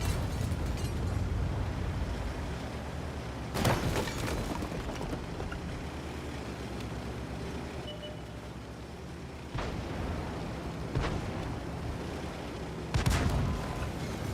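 KV-1 tank with a derp gun firing in a tank video game: three sharp, heavy booms spaced several seconds apart over a steady rumbling engine and battle bed, with no talk.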